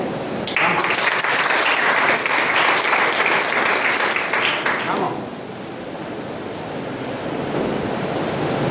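An audience claps at a speaking event for a speaker who has just finished, a loud, dense burst of applause lasting about four and a half seconds before fading into a murmuring room.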